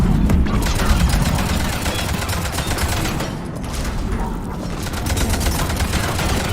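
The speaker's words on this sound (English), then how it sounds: "let's hit him with the grenades" Cluster grenade blasts and sustained gunfire in a Mass Effect 3 battle, a dense, loud, continuous barrage of shots and crashing explosions with no letup throughout.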